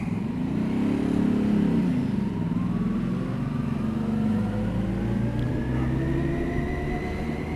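A large truck rumbles past close by, a steady heavy low engine drone with a rising and falling pitch as it goes by, loud and continuous with no talk.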